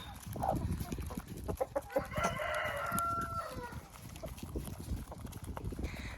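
Chickens cluck nearby while a rooster crows once clearly in the middle, over scratching and shuffling noises.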